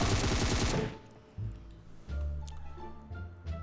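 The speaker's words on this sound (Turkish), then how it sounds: "Bir adam daha vurdu orada solda." Gunfire in the mobile battle royale game PUBG Mobile, a dense loud burst of rapid shots at the start, then scattered thuds and game sounds.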